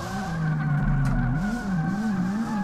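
Car sliding sideways while drifting in DRIFT21, engine droning and wavering in pitch as the tires scrub across the surface, loud and continuous with no voices.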